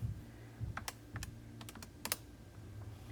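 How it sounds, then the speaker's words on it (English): Fingers tap out a calculation on calculator keys, a quiet scatter of short, crisp clicks in an uneven rhythm, close by with a faint hum underneath. "type it into the calculator"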